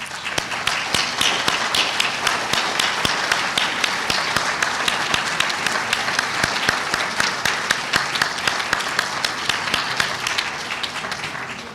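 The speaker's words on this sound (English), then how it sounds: "please stand, and we would like to applaud for you" A large audience at an awards ceremony applauds steadily and loudly for distinguished history lecturers, dense continuous clapping filling the room with sharp individual claps standing out throughout.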